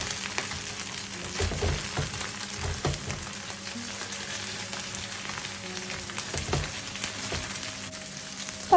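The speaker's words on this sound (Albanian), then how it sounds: "Do ta skuqim dhe salcën e domates." Tomato sauce fries with onion in a pot for a traditional meatless bean dish, giving a steady close crackle and sizzle with soft stirring scrapes throughout.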